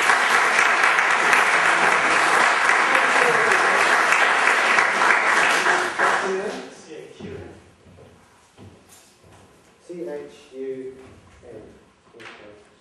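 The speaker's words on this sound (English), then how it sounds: "Chun, round of applause for Chun." Loud, dense applause from a theatre audience at a stage mentalism show fills the first six seconds, then fades; someone speaks over the quieter remainder.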